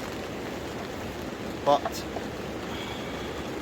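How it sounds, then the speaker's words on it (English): Heavy rain and a rushing river near a winter campsite at Glencoe in a storm, a steady broadband roar close by, with someone briefly speaking over it. "I think the sound of the rain plus the sound of that river,"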